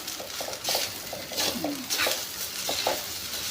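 Garlic fried rice (sinangag) being stirred in a pan at breakfast, a steady soft sizzle with repeated scraping and clinking of a utensil against the pan, fairly close and alone.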